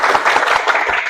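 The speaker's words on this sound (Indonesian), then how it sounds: "Kita tepuk tangan bersama dulu." A class of students claps hands together in a classroom, a steady burst of group applause filling the whole moment without talk.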